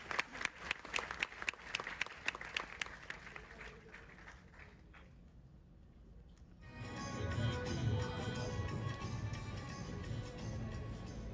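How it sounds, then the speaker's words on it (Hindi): A university audience at an Independence Day celebration applauds guests of honour: scattered clapping at first, a brief lull, then a fuller, denser wave of applause that carries on moderately loud. "जोरदार तालियां हो जाए हमारे अतिथि विशेषों का।"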